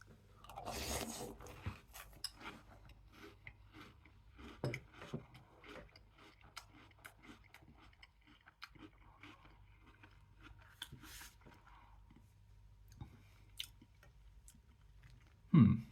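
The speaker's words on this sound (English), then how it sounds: "So this is your Back to the Future chocolate ball things. Let's give them the old taste test." Back to the Future multigrain chocolate ball cereal is crunched and chewed close up, with soft, irregular bites and rustles over a quiet background and a brief louder thump at the end.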